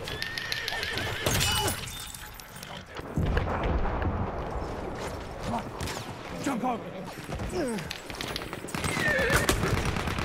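A horse neighing and galloping in the video game Battlefield 1, with whinnies and hoof clatter mixed into a busy, noisy battle scene of crashes and bursts that carry through the whole stretch.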